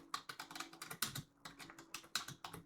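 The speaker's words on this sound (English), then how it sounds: "Typing with one hand is awful." Rapid one-handed typing on a computer keyboard, a close, uneven run of clicky keystrokes with short pauses between bursts, with no talking.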